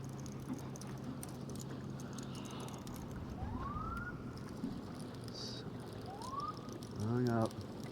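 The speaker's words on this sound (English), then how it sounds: "Police boat out here, sirens and lights." A police boat siren wails in rising sweeps in the distance over steady low engine drone and water noise, with a brief horn-like blare near the end.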